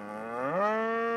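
A single cow moo used as a cartoon story sound effect: one short, loud, clear lowing call that rises in pitch partway through and then holds steady, close and alone.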